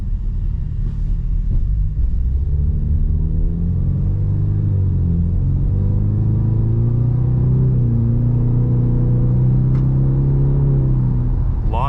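A 2024 Ford Mustang EcoBoost Premium on the road, its exhaust giving a steady low rumble that swells and settles as the engine pulls, heard from inside the car with no talking.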